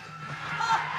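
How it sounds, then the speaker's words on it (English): A cricket crowd across the ground cheers a six hit in a super over of a T20 match in Glasgow, a soft sustained roar rising and swelling slightly, distant and steady. "the crowd on the far side love the opening 6"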